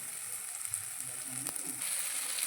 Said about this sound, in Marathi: त्याला हलवायचं आता चांगलं फ्राय देतो